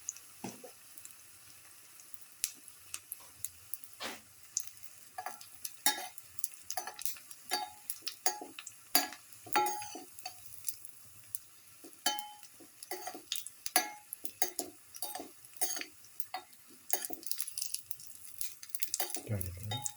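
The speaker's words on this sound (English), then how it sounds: "Let it fry." Chickpea flour fritter batter frying in a pan, with steady quiet sizzling broken by many sharp clinks and scrapes of a utensil against cookware, no voices.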